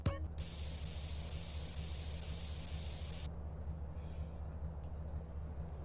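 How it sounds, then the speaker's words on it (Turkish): An aerosol spray can hisses as graffiti is sprayed onto a wall in GTA San Andreas, one long loud burst over a low game-audio rumble before it cuts off. "Duvarlara sprey yaptığımız gibi yapacaksın"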